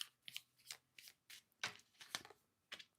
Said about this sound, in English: one more shuffle and I'll change decks